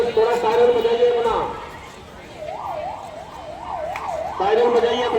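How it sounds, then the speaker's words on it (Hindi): Ambulance siren sounding during an emergency mock drill, a rising-and-falling wail that repeats several times at moderate distance amid crowd noise and other vehicle tones. "थोड़ा सायरन बजाइए अपना"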